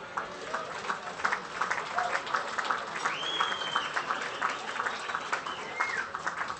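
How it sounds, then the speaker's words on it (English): An audience at an awards night applauds in sustained, even clapping from many hands, fairly close and steady throughout, with faint voices underneath. "So please give Pippa a round of applause."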